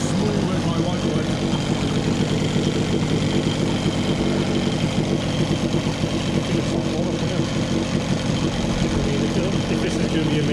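A converted engine idles after warming up, a steady loud rumble that runs unbroken and slightly uneven throughout.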